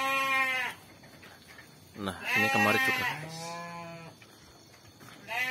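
Goats and sheep in a pen at night, fed on grass and fermented feed, bleat loudly and repeatedly in long wavering calls close by, while someone talks between the cries.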